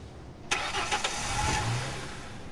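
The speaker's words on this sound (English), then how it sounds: "Car sounds awful." A car engine in a driving video game turns over and starts with a sharp catch, then settles into a steady mid-pitched idle.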